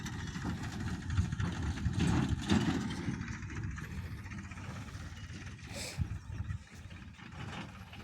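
A tractor loaded with people runs nearby with a steady, low, idling engine rumble, swelling slightly around the second and third seconds and continuing throughout the clip.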